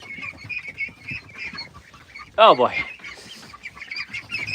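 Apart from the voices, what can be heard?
ducks and chickens calling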